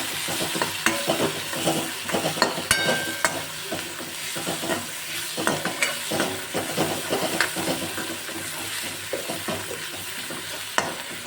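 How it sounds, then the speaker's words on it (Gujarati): Chopped onion and ginger-chili-garlic paste for a Kathiyawadi curry are stirred in a hot pan: a loud, continuous close sizzle broken by rapid, busy spatula scrapes throughout. No voices. "હવે બધું આપણે મિક્સ કરી લઈશું"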